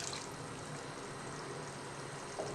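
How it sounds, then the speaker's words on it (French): A little water poured into a hot pan of peppers cooking for cod à la provençale, a steady wash of hiss and trickle that stays even throughout, close up, with no voice. "je vais rajouter un petit peu d'eau"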